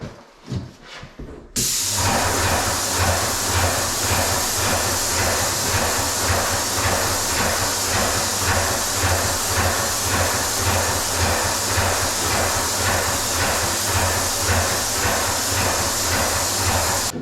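Airless paint sprayer spraying paint through its nozzle, a steady loud continuous hiss that starts abruptly after a brief quiet moment and holds evenly for the rest of the stretch, with no talking over it.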